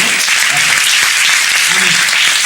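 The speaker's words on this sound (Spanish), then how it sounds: "Pues dale esa aplauso más fuerte" A church congregation claps loudly and continuously during a sermon, a dense wash of hands with a voice faintly audible underneath.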